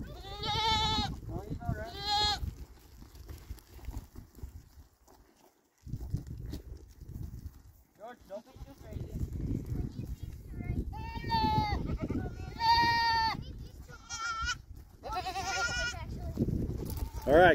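Goats in a farm pen bleat loudly in repeated wavering calls, clustered near the start and again toward the end, while people talk and move around them during a roundup to separate billies from nannies.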